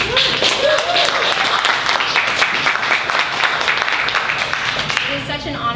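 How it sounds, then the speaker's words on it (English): Audience applause at a book launch in a bookstore, sustained lively clapping with a few voices and cheers mixed in, continuing for several seconds before a voice begins. "A round of applause for Baba Yaga."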